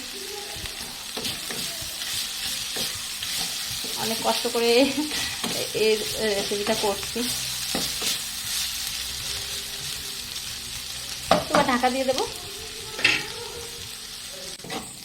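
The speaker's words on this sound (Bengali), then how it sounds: "সবজির খোসাগুলো বেশ ভালোভাবে ভাজা হয়ে গেছে, দেখতেই পাচ্ছ।" Vegetable peels sizzle steadily in a pan while a spatula stirs and scrapes, with a few sharp knocks. A person talks over the frying for several seconds.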